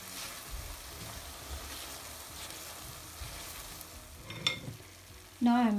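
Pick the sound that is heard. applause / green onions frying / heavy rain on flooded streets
green onions frying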